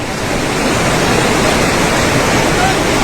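Rushing floodwater from a flash flood in Solok, roaring steadily and loudly as a broad, continuous wash of noise with no pauses.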